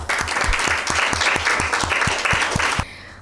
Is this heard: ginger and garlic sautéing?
no